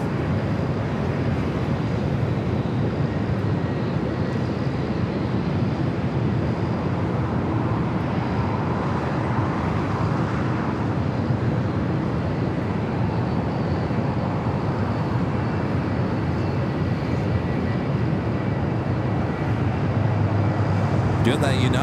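A United Boeing 777-300ER bound for Newark waits second in line for takeoff at LAX at night, with a steady, loud wash of engine and airport rumble running unbroken throughout.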